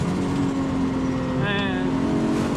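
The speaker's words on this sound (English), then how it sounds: "Okay, and let's accelerate out." Nissan Skyline GT-T accelerating hard on a mountain road, its engine drone rising in pitch from inside the cabin, loud and continuous, with a brief whine near the middle.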